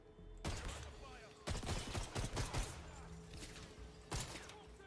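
Gunfire in the video game 007 First Light: several heavy bursts of shots and impacts in a firefight, loud and close, with short gaps between volleys and game voices in between.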